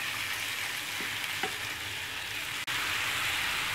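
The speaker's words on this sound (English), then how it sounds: "And now it's time to add our beef." Beef sizzling steadily in a hot pan with tomatoes and vegetables, a continuous loud fry with a brief stir clink near the middle and no talking.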